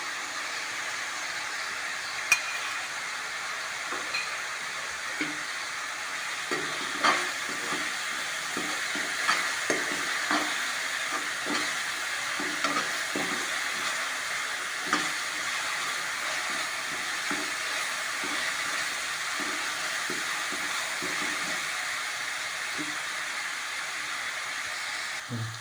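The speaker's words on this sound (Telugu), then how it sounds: "అల్లం వెల్లుల్లిపాయలు పచ్చిమిర్చి కలిపిన పేస్ట్ వేస్తున్నాను ఫ్రెండ్స్." Ginger, garlic and green chili paste frying with onions for a village-style mushroom curry, a continuous low sizzle broken by repeated stirring scrapes and soft clinks at an uneven pace, close and without speech.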